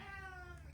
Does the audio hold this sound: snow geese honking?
no